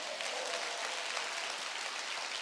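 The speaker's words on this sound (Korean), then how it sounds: "이걸 예수의 말씀이라고 생각하는 사람만 박수." A church congregation clapping during a sermon, a steady, dense burst of many hands applauding, moderately loud and without talk.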